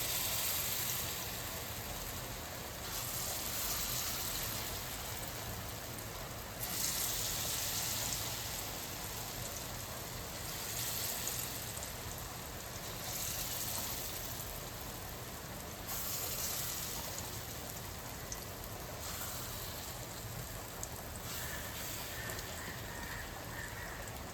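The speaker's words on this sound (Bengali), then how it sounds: "এবারে আমি ছোট ছোট করে বড়া ভেজে নেব।" Small fritters (bora) fry in a pan over low gas, a continuous rain-like hiss and bubbling that swells and eases in waves for the whole stretch, with no talking.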